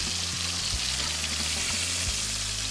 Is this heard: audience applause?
no